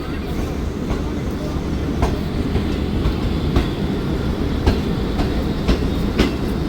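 The Shalimar Express runs on rails in Pakistan with a loud, steady rumble and regular clickety-clack wheel beats over the rail joints, heard close and continuous.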